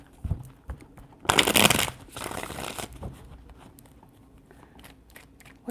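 A deck of tarot cards is shuffled in one quick riffling burst of about a second and a half, soft and close, with quiet room sound before and after.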